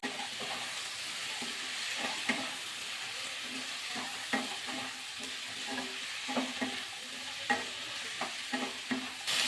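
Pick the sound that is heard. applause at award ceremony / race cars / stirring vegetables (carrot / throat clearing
stirring vegetables (carrot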